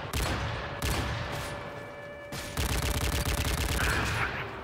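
Rapid gunfire in Call of Duty MW3 (Modern Warfare 3): dense, fast bursts of shots clatter on loudly and nearly without pause, intensifying into a steady stream in the second half.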